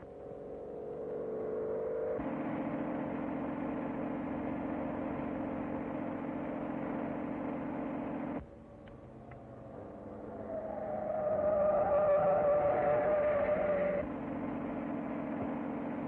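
A car from a 1932 film drives off, a muffled engine whir that rises in pitch, steadies, drops briefly, then revs up again in an old, narrow-sounding recording with no voices.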